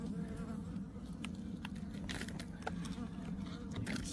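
A steady low buzzing of many honeybees around a hive during a February check fills the clip, constant and close, with scattered clicks and knocks over the drone.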